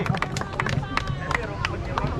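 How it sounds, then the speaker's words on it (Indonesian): Audience applause for Pariaman at an Indonesian press event with a minister, scattered uneven claps rising through the crowd with murmuring voices mixed in, moderately close. "Tepuk tangan untuk Pariaman."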